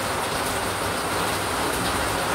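Rain falling outside a store, a dense, steady wash of heavy rainfall that stays loud and even throughout, with no voices.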